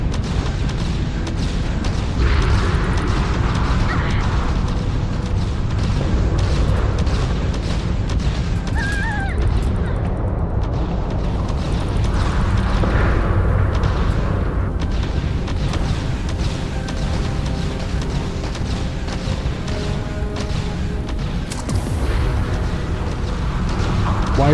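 Turrets fire and explosions burst during a Starfield space battle in the Terran Armada expansion, a dense, loud, continuous barrage of booms and blasts layered over one another without pause.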